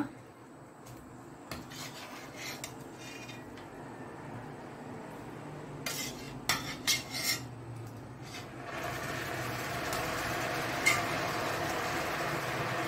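Cooked food is scraped and transferred with utensils into a marinating vessel, heard as steady close rasping and rubbing with a few sharper scrapes and clatters.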